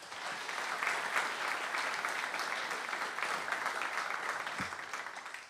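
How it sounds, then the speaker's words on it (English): Audience applause for musicians at a traditional Irish accompaniment competition, a steady mid-distance clapping that sustains evenly throughout, with no talk over it. "Round of applause, please."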